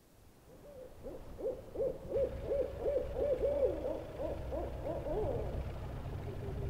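An owl hoots in a misty nighttime scene, a rapid string of wavering hoots rising in the middle and running on over a low rumbling ambient bed.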